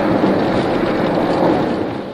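Heavy rain pours down steadily on the road to Tekirdağ. It makes a dense, loud, continuous wash of noise for the whole stretch, with no voices.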